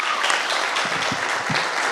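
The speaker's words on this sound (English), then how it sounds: "Let's have a round of applause for Miguel." A room of people gives a short round of applause for a man named Miguel at a communication-skills gathering, a steady burst of clapping that stays even throughout.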